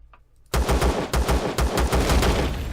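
A gun in the video game Empyrion fires at a turret in several close, loud bursts of rapid automatic shots separated by brief pauses.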